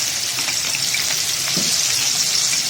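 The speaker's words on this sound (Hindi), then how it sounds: "मैंने इसमें थोड़ी सी प्याज डाल देनी है।" Onion fries in hot oil for a spicy minced-meat dish, a loud, dense, even crackling sizzle that holds steadily throughout, with no voices.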